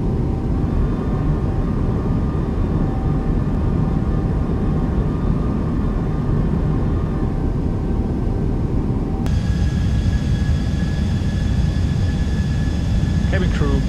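An airliner lands in Microsoft Flight Simulator 2020, a loud, steady engine roar with a rumbling low end that shifts abruptly partway through into a brighter whine. No voices are heard.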